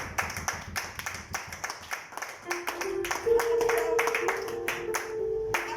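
A church congregation claps rhythmically in a steady beat, with a sustained sung or shouted voice rising over the clapping partway through.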